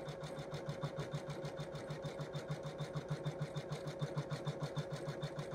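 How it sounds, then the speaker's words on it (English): A home embroidery machine stitches an in-the-hoop Christmas stocking, its needle chattering in a fast, even rhythm over a steady motor hum, close and moderately quiet. "When you first get your embroidery machine, you'll stand over it for hours watching it do its thing"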